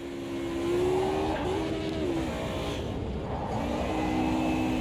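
A Mercedes DTM race car in the sim game Automobilista 2 holds a loud, steady engine drone with slight pitch shifts as it changes speed.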